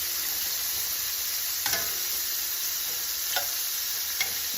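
Shrimp sizzle steadily in a hot pan while a vodka sauce is made, a dense continuous frying hiss with a few sharp scraping stirs.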